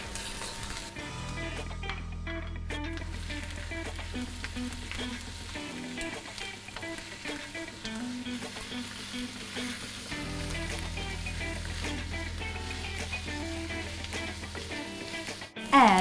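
Huge prawns frying in a wok for homemade XO sauce fried rice, a steady close sizzle running throughout, with occasional stirring clatter and a loud knock at the end.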